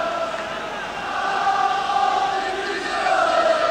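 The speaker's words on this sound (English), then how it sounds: "The crowd now beginning to lift Tottenham." A 1983-84 Tottenham v Bayern Munich football stadium crowd of Spurs supporters roars and buzzes steadily, a broad, continuous swell of many voices that lifts slightly midway and holds at full volume throughout.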